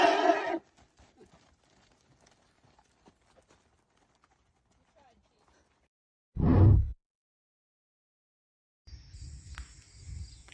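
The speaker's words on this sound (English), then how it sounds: "So here's Joey, hussy horse, not on board about going for a morning workout." A horse snorts or whinnies once in a short loud burst, with faint hoof shuffling and insect chirps in a quiet outdoor setting.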